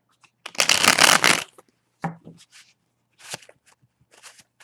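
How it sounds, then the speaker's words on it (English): A burst of tarot card shuffling up close, followed by a few lighter riffles and soft handling sounds with pauses between. "Okay, we'll give it a couple more shuffles."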